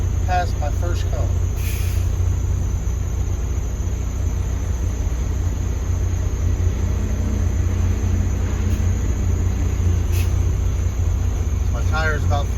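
A CDL truck's engine idles with a low, steady rumble while it backs up in a straight line during parallel parking practice, a close droning hum with faint brief clicks and hisses on top.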